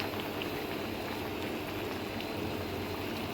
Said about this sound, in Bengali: এই তো বলক এসে গেছে।